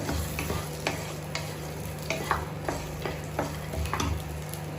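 Soybean chunks sizzle steadily in a pan while a utensil scrapes and taps against it at irregular intervals, close and moderately loud.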